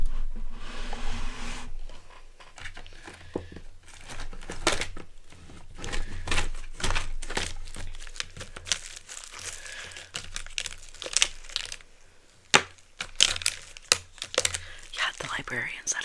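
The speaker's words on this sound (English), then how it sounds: "Actually, I'm gonna grab a new marker for this." Rummaging through a desk drawer for a new marker in a library tutoring space: close, crinkly rustling and scattered clicks and knocks of objects being shifted, soft and intimate, with faint whispered speech at times.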